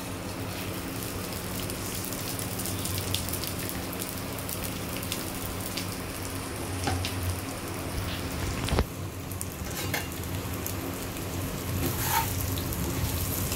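Gobindobhog rice frying with garam masala in a pan gives a steady, dense sizzle and crackle that runs throughout at moderate loudness, with no talking.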